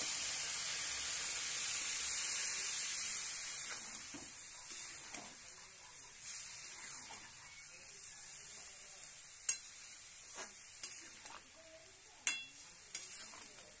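Water poured into a pan of browned fried potatoes and pumpkin brings a soft steady sizzle and hiss, fading as it settles, with a few sharp clicks and spatters toward the end.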